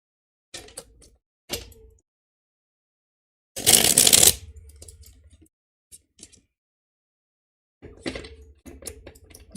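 Tarot cards being shuffled face-up by a hand wearing rings, in short, crisp bursts with quiet pauses between, including one longer, louder riffle in the middle.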